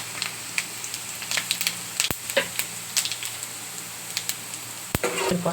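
Mustard seeds, cumin and dried red chillies fry in hot oil with a constant close sizzle, scattered pops and crackles, and the clink of stirring.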